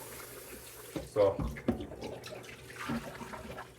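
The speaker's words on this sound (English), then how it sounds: "for the chicken, you just want to rinse it off in some warm water" A kitchen tap runs in bursts as raw chicken is rinsed under warm water, with splashing, clunks and handling noises, and a person speaks briefly over it.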